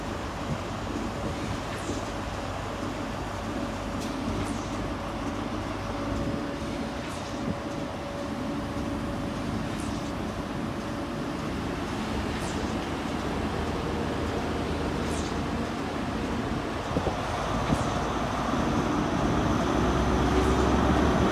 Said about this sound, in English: We'll be the Great Western Railway service to Cardiff Central.